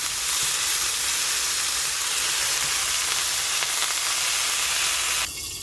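Bathua greens laid over fried eggplant in a pan give a steady, close hiss and sizzle that holds at an even level throughout, then drops away sharply at the very end.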